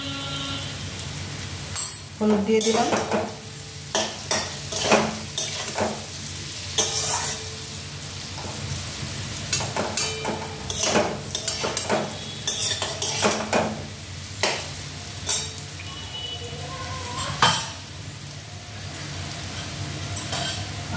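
Raw papaya pieces fry with turmeric in a pan, a steady close sizzle broken by frequent metal spatula scrapes and clanks against the pan as the mixture is stirred, with no talking.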